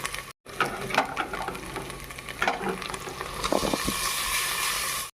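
Washed basmati rice fries gently in ghee while being stirred, with a steady close sizzle and a scatter of scraping and clinking from the spoon. A short gap falls near the start.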